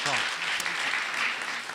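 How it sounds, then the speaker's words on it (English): Conference audience at a keto event applauding the panel, a brief, full burst of clapping with some voices mixed in. "Can we give them a round of applause?"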